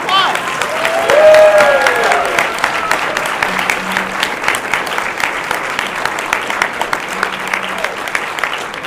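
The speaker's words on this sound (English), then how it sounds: "let's give them a round of applause" Sustained audience applause at a University of Wisconsin–Madison holiday colloquium, fairly close and loud. It swells in the first seconds and then holds steady with dense clapping, with a whistle and a few cheers mixed in near the start.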